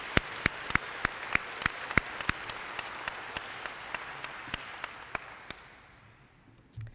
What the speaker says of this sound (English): Let's give all of our course recipients a round of applause.